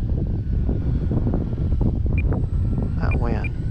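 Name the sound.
wind blowing on microphone at RC flying field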